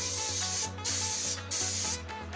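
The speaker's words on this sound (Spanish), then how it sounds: "Engrasar el molde es muy importante, para que al momento de desmoldar el chocoflan sea más fácil y no se pegue. Entonces vamos a utilizar este spray." Cooking spray hissing from a can onto a chocoflan mold in three short bursts, each lasting under a second, close and fairly loud over a steady low hum.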